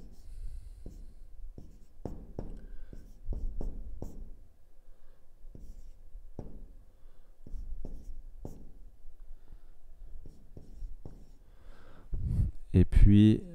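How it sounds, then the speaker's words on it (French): Chalk or marker writing out a math calculation with a power on a board, a series of short irregular taps and strokes close by, ending with a person speaking. "on va écrire un calcul avec peut-être aussi une puissance"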